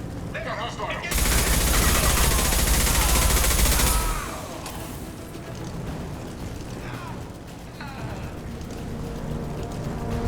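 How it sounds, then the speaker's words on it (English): Sustained automatic gunfire from Blue Suns mercenaries and Vorcha in Mass Effect Legendary Edition, a loud dense burst of shooting for about three seconds, then quieter scattered shots and combat noise with speech-like game voices. "Blue Suns and Vorcha shooting anything that moves"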